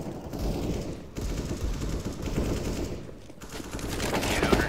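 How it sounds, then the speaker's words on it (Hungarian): Rapid sustained gunfire from players in a multiplayer video game, dense overlapping bursts of shots running almost continuously with brief gaps, loud and close. "Az összes rám lőtt, én meg kidodzsoltam az összes lövést."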